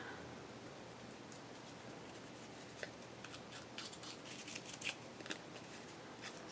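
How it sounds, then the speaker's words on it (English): Scissors roughing up the edge of paper while making envelope ephemera: faint, close, crisp scraping and snipping scratches, denser and louder in the second half, over a steady low hiss. "Stab myself a few more times with the scissors."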